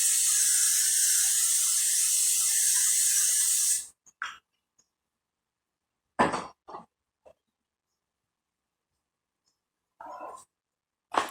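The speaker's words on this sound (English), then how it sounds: "We're going to spray a little nonstick spray in it." Nonstick cooking spray hisses into a baking dish in one continuous, fairly loud blast of nearly four seconds, then a few faint clinks and short bursts of handling noise in near silence.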